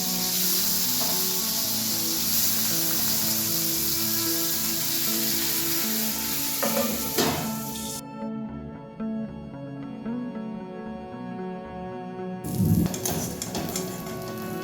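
Ash gourd leaves frying in hot oil, a loud continuous sizzle that suddenly thins out, then flares back with clinks of a utensil against the pan.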